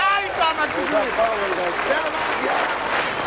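Vast crowd applauding at a 1990 World's Strongest Man event finale, dense steady clapping with cheers and voices mixed through, loud and continuous throughout.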